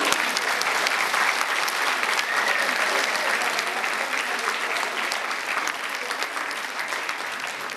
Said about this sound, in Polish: Słuchajcie, brawa!